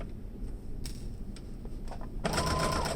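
A sewing machine stitches a fabric face mask around the nose area, its motor starting with a faint ticking hum and rising to a louder steady whir near the end.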